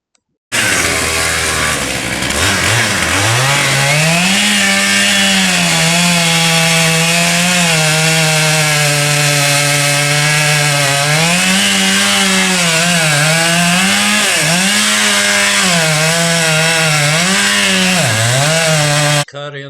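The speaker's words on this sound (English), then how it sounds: "the main trunk of this giant oak tree will surrender to the roar of a chainsaw" A loud chainsaw roars steadily while cutting through the main trunk of a giant oak tree, its pitch dipping and rising as the bar bites into the wood, close and continuous for the whole stretch.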